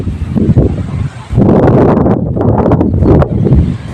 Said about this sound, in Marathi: वार खूप सुटलेला आहे